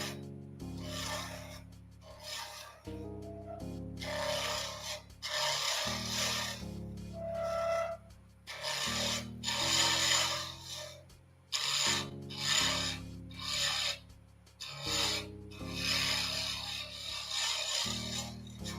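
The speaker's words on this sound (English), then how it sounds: "With the carbide tool, you can get a little bit more aggressive here in the roughing." A carbide turning tool roughs spinning wood on a lathe, producing repeated scraping, rasping passes against a low motor hum, each pass starting and stopping in an uneven rhythm up close.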